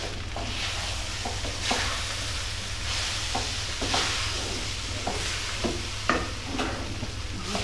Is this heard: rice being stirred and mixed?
yes